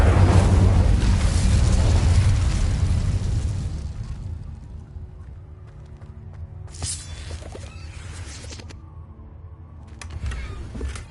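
Incendio fire spell in Hogwarts Legacy bursts with a loud roaring whoosh that fades over several seconds, followed by a couple of softer crackling bursts and a rising flare near the end.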